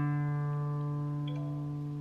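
An electronic tuner on an acoustic guitar rings out a sustained plucked string note, steady and clear, with a soft confirming chime layered near the middle.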